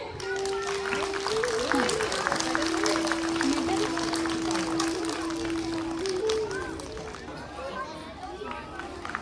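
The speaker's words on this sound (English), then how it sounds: "All of you clap, children." Children clapping at a school assembly for a kindergarten class, steady broadband patter under a continuous tonal hum or voice, with talk and crowd noise throughout.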